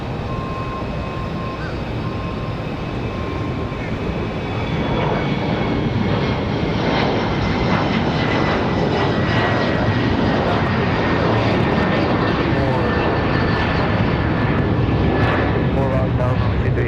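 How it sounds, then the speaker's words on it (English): A Republic Airways airliner departing Raleigh-Durham airport on a windy day, its jet engines building into a loud, sustained roar that fills the whole stretch, with voices talking over it. "So Republic Airways 4509 off to JFK."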